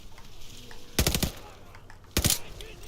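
Two short bursts of rapid automatic gunfire ring out in the Call of Duty Vanguard World War II shooter, each lasting about a third of a second and separated by a quiet gap.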